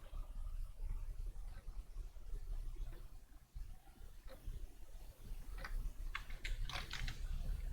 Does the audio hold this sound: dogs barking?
no